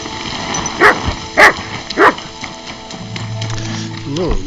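A dog gives three loud, close barks spaced about half a second apart, followed by softer whining yelps near the end, with background music and other sounds running underneath.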